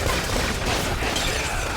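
Gunfire in the Valkyria: Revolution video game, a dense, noisy burst of rapid shots that roars continuously at close range for under two seconds.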